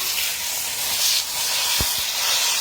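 A pot roast browns in a hot pan, producing a continuous bright hiss and sizzle, with a couple of low thumps as the meat shifts, close and without talk.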